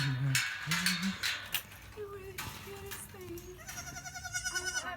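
A baby goat bleats several times in short, wavering cries, close by, with people talking and light clattering around it.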